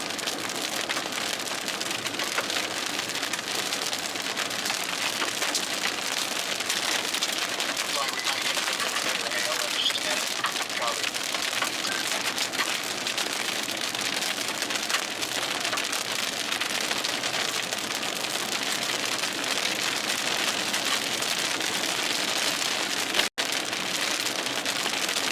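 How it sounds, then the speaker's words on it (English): Rain and hail pour steadily during a storm in southwest Texas, a dense loud hiss of drops hitting surfaces throughout, with a single sharp knock near the end. "Got a couple hailstones here."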